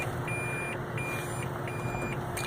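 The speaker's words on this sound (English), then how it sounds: "now we're gonna get the beeps" A taxi shifted into reverse sounds its warning beeper: evenly spaced high electronic beeps repeat steadily over a low engine hum inside the vehicle.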